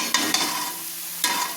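Chicken spice paste being stir-fried in a pan, a close, fairly loud sizzle with a few quick spatula scrapes at the start and another near the end.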